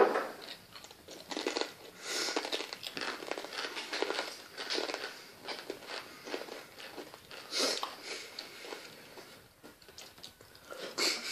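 Crunchy Chex Mix being chewed close up, a long run of crisp, crackling bites and grinding crunches in an uneven steady rhythm, with no talking.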